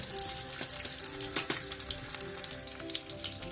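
Food frying in a pan on a propane stove turned up high, a close, steady sizzle with scattered crackles and pops, and no voices.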